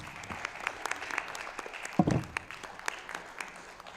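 An audience at a school board candidate forum claps for the candidates, a brief burst of applause rising around the midpoint and tapering off, fairly quiet overall.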